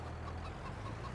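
Chickens cluck in a Farming Simulator 22 poultry barn, a low murmur of soft overlapping clucks under a steady ambient hum, no voices.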